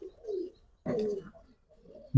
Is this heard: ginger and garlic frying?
no